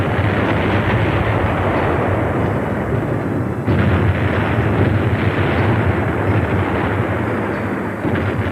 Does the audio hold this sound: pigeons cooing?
no